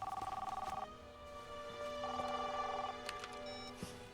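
A telephone rings in two electronic trilling bursts separated by a pause, clear and fairly close in a quiet room.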